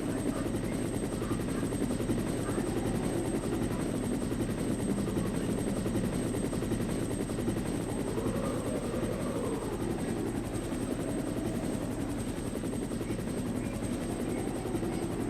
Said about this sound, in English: Flying his fucking helicopter around.